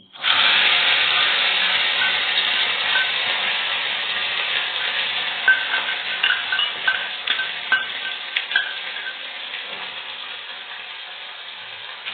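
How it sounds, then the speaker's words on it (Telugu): A mixer grinder grinding onion whirs loudly and steadily, its motor grinding on with small knocks and rattles as the contents churn. "ఆనియన్ మిక్సీ వేసుకుందామండి"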